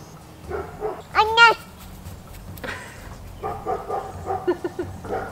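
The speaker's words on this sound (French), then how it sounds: "C'est un chien." A dog gives a few short yelping barks, close by, mixed with some other voices or animal cries.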